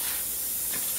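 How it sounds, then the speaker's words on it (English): A carpet cleaner's jet sprays without pause through a number 1 tip on a briefcase-style unit with a 1750 watt heater, giving a steady, loud, close hiss that stays even throughout. "So we're spraying constantly through a #1 tip."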